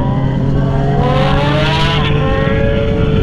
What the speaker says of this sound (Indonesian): Mobilnya ngebut lagi